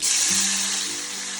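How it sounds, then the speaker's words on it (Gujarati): Buttermilk hits a hot cumin tempering for kadhi and bursts into a loud, broad sizzling hiss that slowly settles over a second and a half, close up with no voices. "હવે એકદમ તતડી અને ઉપર આવી જાય ને એટલે આપણે ડાયરેક્ટ પેલી છાશ નાખી દેવાની"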